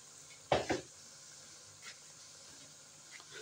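A spoon scraping and clattering against a cooking pot while cumin and spices fry, two quick clanks near the start, then faint sizzling and a few light taps.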